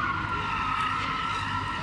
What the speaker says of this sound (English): Squealing tires, revving engines, even fireworks inside this smoky Target parking garage